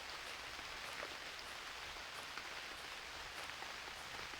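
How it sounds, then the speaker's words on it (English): Rain falls steadily in the video game UnReal World, a soft, even hiss of drops with faint scattered patters, continuous and quiet with no voices. "It's hard to see in the rain."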